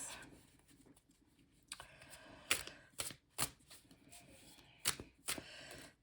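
Tarot cards are handled, shuffled and drawn in a quiet room, giving soft papery rustles and several sharp flicking snaps spaced irregularly, close and fairly faint.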